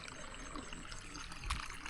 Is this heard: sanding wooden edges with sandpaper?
no